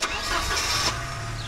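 A Porsche 944 Turbo engine cranks and catches, settling into a steady low idle with broadband mechanical noise, close and fairly loud, no talking.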